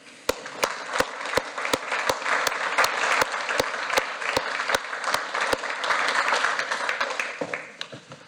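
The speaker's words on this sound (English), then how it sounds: "I'd like to give Elijah a round of applause." Sustained audience applause at a public lecture on African history, a dense steady clatter of many hands with sharp individual claps standing out, fairly loud and unbroken for several seconds before tapering off.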